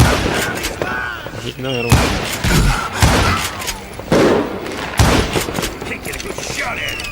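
Gunfire in the Western shooter game Call of Juarez Gunslinger, several sharp revolver shots and booms spaced irregularly, loud and close, with someone talking excitedly between and over them.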